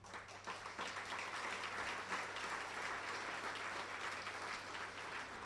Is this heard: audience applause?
yes